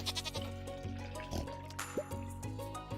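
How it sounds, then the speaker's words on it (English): A sheep bleats in the farming video game Stardew Valley, played on Nintendo Switch. The single short in-game bleat rises over light looping background music with soft dripping, watery effects. "I need to start shearing that sheep."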